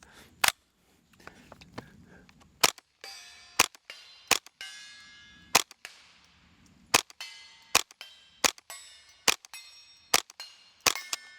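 Rimfire tracer rounds crack one after another from a Ruger 10/22 in a High Tower Armory MBS 22 bullpup chassis, about a dozen sharp, loud shots at an uneven, unhurried pace with brief quiet between them.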